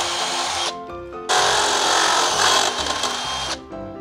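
A power drill whines loudly at close range while boring holes in a mount for a solar spotlight pole, running in two long bursts with a short spin-down between them and no voices.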